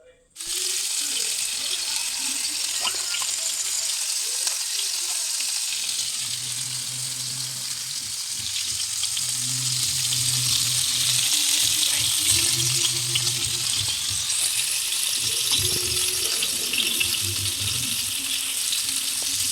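Pomfret fish frying in a pan with masala, a loud close hiss and crackle that holds steady and swells, with stirring clatter and muffled voices in the background.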